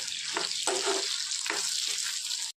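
Garlic and onion fry in hot oil in a pan, giving a loud, steady sizzle with a few bursts of stirring.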